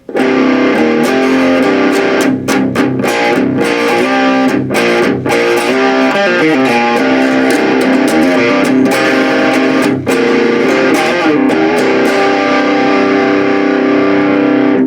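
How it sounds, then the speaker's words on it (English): A Samick Interceptor electric guitar through normal distortion plays loud, dense chords and riffs with brief choked pauses, continuous for the full stretch. "This is just the normal distortion."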